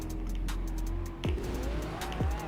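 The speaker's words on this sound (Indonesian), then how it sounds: "Gue denger tuh suara McLaren lo." A McLaren car engine in a video game hums steadily nearby, with two quick revving sweeps that drop in pitch as it passes, over a constant background drone.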